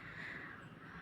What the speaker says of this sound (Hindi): कौवे जो है वो दूर दूर आसमान में जो है वो बोल रहे हैं, काँव काँव कर रहे हैं